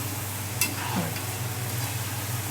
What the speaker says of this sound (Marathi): ह्याला तळायला वेळ नाही लागत हे बघ पटकन तळले जातात